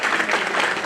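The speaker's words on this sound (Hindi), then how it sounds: "सभी जोरदार तालियां बजाओ।" A crowd claps steadily and continuously, a full wash of applause with no voices standing out.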